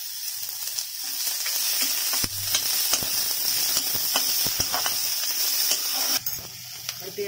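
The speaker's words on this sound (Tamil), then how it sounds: "நல்லா வதங்கட்டும்" Chopped onions sautéing in a pan for a mushroom gravy, a continuous close sizzle with bright hiss, broken by occasional clinks and scrapes of a stirring spoon, no talk.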